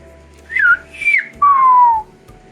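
A Silbo Gomero whistler from La Gomera whistles a person's name in the island's whistled language: three sharp, clear whistled syllables, the last one long and gliding downward, loud and close with silence around them.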